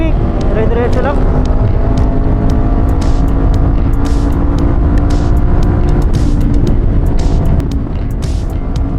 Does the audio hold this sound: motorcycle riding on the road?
yes